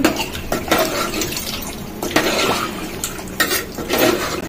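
A spoon scrapes and clanks around a metal pot, stirring gravy with added water, wet sloshing sounds in repeated bursts.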